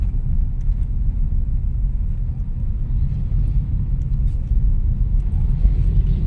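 Heavy low rumble of dense street traffic with many motorcycles passing nearby, a continuous loud drone of engines without clear individual passes.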